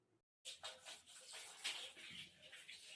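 Water running while a hair mask is rinsed out of hair, a soft, steady hiss of flowing water with uneven splashy surges, close but faint, starting after a brief silence.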